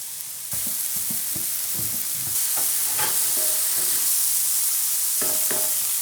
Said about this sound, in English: We're going to saute all of this together for 3 to 4 minutes until the mushrooms start to give off some of their liquid.